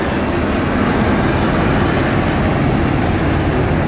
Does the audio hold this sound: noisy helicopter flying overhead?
yes